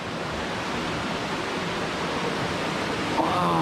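Philippine river rushing over rocks near a waterfall, a loud, steady broadband wash of flowing water filling the whole stretch, close and continuous with no breaks.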